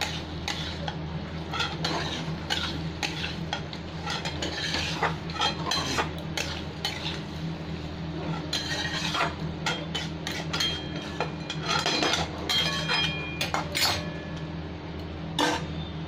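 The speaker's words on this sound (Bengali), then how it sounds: "এবার সব একসাথে ভালো করে কষিয়ে নেবো" Pointed gourd (potol) masala being stirred and fried in a pan, with a spoon scraping and clinking against the metal in steady, close strokes over a low continuous hum.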